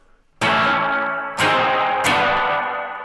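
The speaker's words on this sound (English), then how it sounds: "And then you've got your reverb here." Three loud electric guitar chords ring out one after another, each washing into a lingering reverberant tail that fills the gaps.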